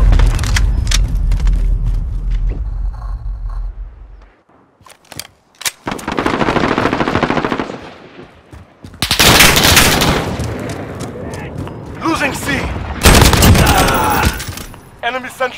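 Automatic gunfire in Call of Duty: Modern Warfare, loud sustained bursts and rattling volleys mixed with explosions and game announcer speech, pausing briefly before resuming.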